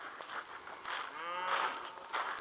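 A cow on a farm gives a single faint, drawn-out moo, distant and brief, with soft background noise.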